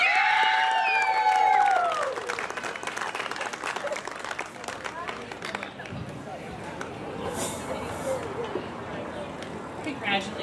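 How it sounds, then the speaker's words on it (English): Audience at a senior queens pageant breaks into sustained applause and cheering for the contestants, a dense crowd clapping with whoops, tapering slightly but continuing, while an amplified voice speaks briefly at the start. "Let's give them another round of applause."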